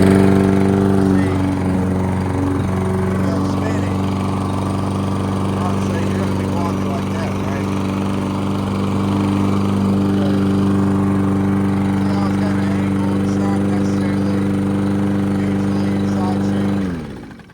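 A Toro Recycler Max 22-inch walk-behind lawn mower runs continuously at a steady, loud engine drone close by, holding an even pitch throughout before cutting off abruptly at the end.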